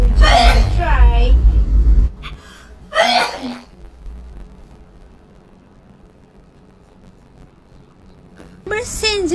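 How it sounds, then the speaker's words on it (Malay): A person sneezes in a fit after a sinus (resdung) treatment, with loud, forceful bursts at the start and again near the end, separated by a quieter stretch and a voice speaking. "Kan lega bila dah bersin"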